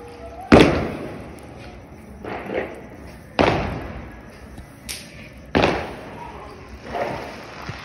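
Diwali firecrackers: several sharp booming bangs spaced a second or two apart, each with a short echoing tail, interleaved with softer thuds outdoors.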